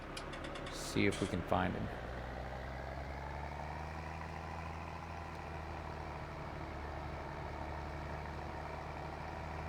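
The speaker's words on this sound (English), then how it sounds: "This Fiat, it continues to run really well. It's a nice tractor." Fiat tractor engine running in a roleplay farming game, a steady low idle drone throughout, with someone speaking briefly near the start over the engine.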